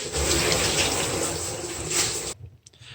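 Water rushing through household plumbing after a whole-house water filter cartridge is replaced: a loud, steady hiss of flow for over two seconds that cuts off abruptly, leaving faint residual trickles.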